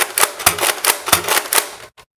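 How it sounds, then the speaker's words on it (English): Repeated dry firing of a Buzz Bee Agitator toy blaster: about eight sharp, loud, close mechanical snaps in a steady rhythm, each with a springy clack, ending abruptly. "let's do a little bit of dry firing."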